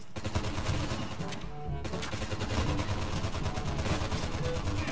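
Rapid gunfire in Call of Duty Mobile played on a phone with a MediaTek G90T chipset: loud, sustained automatic bursts with a brief pause partway, dense and close, with no speech.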